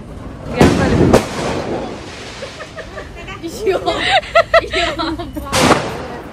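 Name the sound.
firecracker exploding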